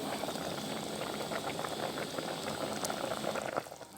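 Water boils in a pot on the stove for dry kuay jap noodles, a dense continuous bubbling and rumbling heard close up and alone.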